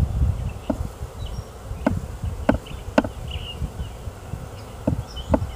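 Honey bees hum steadily close by around a hive, a soft continuous buzzing with a few louder passes as individual insects fly near.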